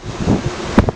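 A west to west-southwest onshore wind of about three Beaufort blows at a surf beach in Anglet, buffeting the microphone with a rough, gusty rumble for a brief moment.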